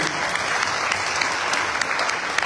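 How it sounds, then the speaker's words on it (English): An indoor audience at a Sharad Navaratri night at a Hindu temple in Pickering applauds, a dense, steady patter of many hands clapping close and fairly loud, with no voices over it. "Big round of applause for Chris."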